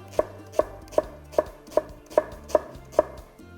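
A knife cuts leek into julienne strips on a board, eight sharp, evenly spaced chops in a steady rhythm, close and clear with no talking.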